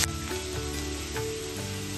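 Onion frying in a pan, a continuous dense sizzle with faint stirring scrapes, close and steady for a couple of seconds with no voices.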